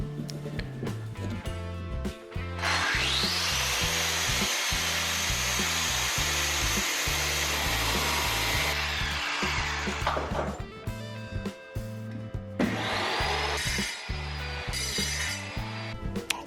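A power tool whines steadily while cutting a metal bracket for a homemade bicycle trailer, loud and close, pausing briefly before the cut resumes, with a rhythmic music track underneath.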